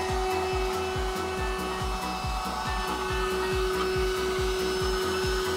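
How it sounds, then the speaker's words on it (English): A low pressure vacuum steadily sucks up a swarm of bees invading a house, its motor droning continuously with a fast repeating pulsing rhythm close by, no voices. "Watch how this low pressure vacuum is used to safely remove bees that were invading this house"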